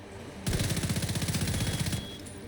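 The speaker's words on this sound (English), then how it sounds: "because I'm firing that CTAR so much" CTAR rifle firing in The Division 2, a rapid, steady full-auto burst of about a dozen and a half evenly spaced shots lasting roughly one and a half seconds, loud and close, with a quiet tail afterward.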